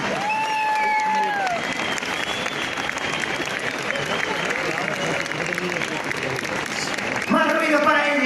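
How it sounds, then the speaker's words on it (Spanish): Crowd at a New Year's Eve street celebration in Zamora breaks into loud, sustained applause mixed with cheers, with a few whistles early on and a voice over it at the end. "Más ruido para ellas, un aplauso fuerte."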